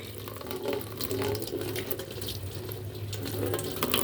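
Water pours out of an upturned rubber glove in a continuous splashing stream, close and fairly loud, with the flow steady throughout and no talking.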